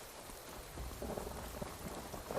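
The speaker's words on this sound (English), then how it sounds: "Right now there's some soft rains going on." Soft rain falling in Skyrim, a faint, quiet patter and hiss of drops that swells slightly midway, with no voices.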